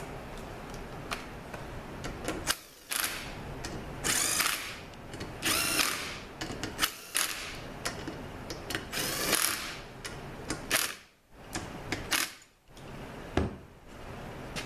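A power tool drives in the front pump bolts of a 722.9 automatic transmission in repeated whirring, ratcheting bursts, each lasting about a second with short pauses between them, close and fairly loud.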